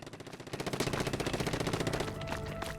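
Splatling weapon firing in Splatoon, a rapid, evenly pulsing burst of shots that runs loud and continuous for about two seconds before fading into lighter game effects.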